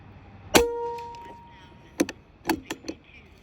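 An Artemis P12 .177 air gun fires 21 grain slugs: one sharp crack is followed by a lingering metallic ring, then several fainter clanks and taps.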